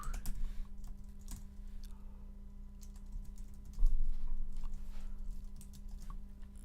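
Computer keyboard typing out a Discord link: a run of quick, light keystrokes with uneven rhythm, close and moderately quiet over a steady electrical hum.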